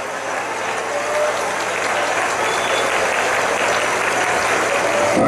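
Audience applause at a rodeo bull-riding tournament, a loud, sustained wash of clapping from a large arena crowd that holds steady and builds slightly toward the end.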